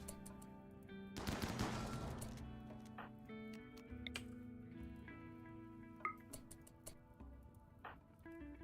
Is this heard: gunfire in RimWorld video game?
yes